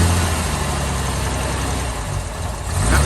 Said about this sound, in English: That was me pulling the throttle back.